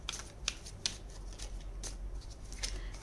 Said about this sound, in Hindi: चलिए यहाँ से हम कुछ और कार्ड्स निकाल लेते हैं।